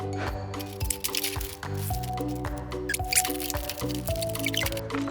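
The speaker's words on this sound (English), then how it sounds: "I want you to fill this bag with water." Water runs and splashes into a plastic bag with squishy gurgles and drips, close by, over steady background music.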